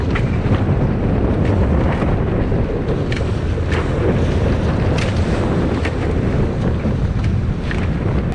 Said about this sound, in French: On a 20 nœuds de vent, mais la mer est calme.